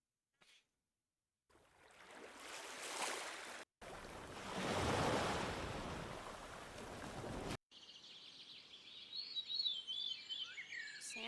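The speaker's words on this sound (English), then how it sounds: "sandstorm" A sandstorm sound effect: a broad, rushing wind-like roar that swells in two long surges, followed by a stretch of layered birdsong.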